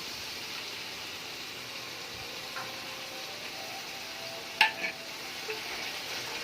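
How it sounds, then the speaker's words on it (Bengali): Onion being sautéed in a pan with ginger, garlic and green chili paste gives a steady, quiet sizzle, with a few sharp scraping clicks of stirring near the end and no talking. "পেঁয়াজটা ভালো করে কষানো হয়ে গেলে আদা রসুন আর কাঁচা লঙ্কার পেস্টটা দিয়ে দেবো"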